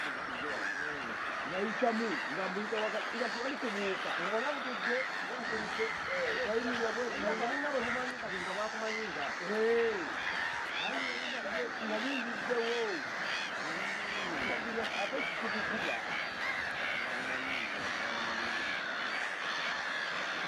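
A dense flock of mixed bird species calls continuously on Musambwa Island, a small, crowded breeding island, with overlapping honking, squawking cries forming a steady, loud chorus throughout.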